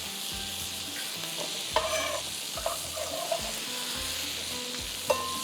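Onions frying in a pan until brown, giving a continuous even sizzle with periodic stirring scrapes and a few louder clinks, close and steady, with a low hum underneath and no talk.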